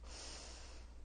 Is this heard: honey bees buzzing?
no